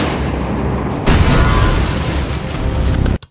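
Animated missiles striking an energy shield in a cartoon battle, a loud sustained booming roar that surges after a second and rumbles continuously before cutting off abruptly.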